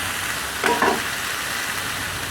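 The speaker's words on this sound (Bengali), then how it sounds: "ধনে পাতা দিয়ে তো নাড়াচাড়া করতে হবে বন্ধুরা।" Chicken cooking with arum leaves and coriander leaves in a pan, a steady broadband sizzle with two short scraping stirs close together midway, no voices.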